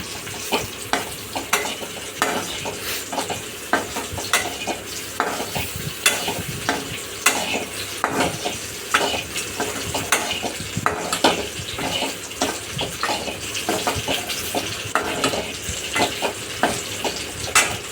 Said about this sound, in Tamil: கொத்தமல்லி தூவிட்டு இன்னொரு தடவை நல்லா மிக்ஸ் பண்ணிக்கோங்க